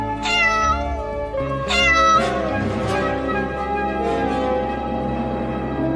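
Cartoon kitten meowing loudly in two drawn-out cries over a sustained musical backdrop with a bell-like tone, no speech.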